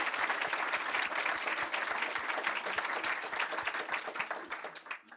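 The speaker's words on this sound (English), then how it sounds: "So I think we can give them all a very warm round of applause." An audience at a driver experience challenge event claps warmly, a dense, sustained patter of many hands that thins slightly toward the end.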